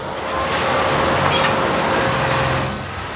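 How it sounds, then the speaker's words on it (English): Dump trucks passing on a Nashville road, a loud broad engine and tire roar swelling and fading as they go by, with a high hiss and faint whine over the traffic. "the amount of dump trucks right now is just"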